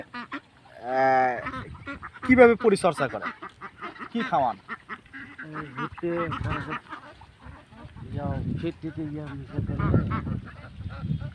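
White Belgian ducks on a duck farm quack and honk in short bursts near a pond, heard between and under people talking nearby.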